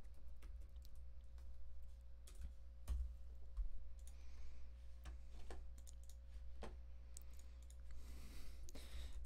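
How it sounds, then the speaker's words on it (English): Someone types on a computer keyboard, a quiet, irregular run of close clicks and taps over a low steady hum, with no talk. "I'm typing"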